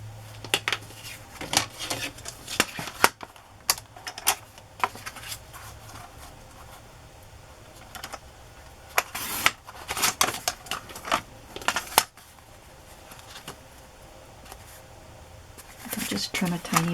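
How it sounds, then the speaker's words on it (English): Scissors snip through paper for mermaid-themed ephemera in scattered bursts of sharp close clicks and rustles, with quiet pauses between cuts and a soft voice talking intermittently. "I only cut it one way. I have to cut it"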